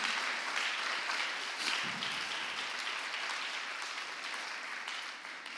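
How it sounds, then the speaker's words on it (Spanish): A church congregation gives applause during a Spanish-language worship service, a fairly faint, continuous wash of clapping that slowly softens over about five seconds. "Dale el aplauso al Dios Trino"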